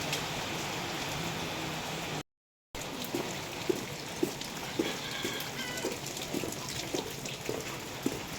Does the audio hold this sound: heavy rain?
yes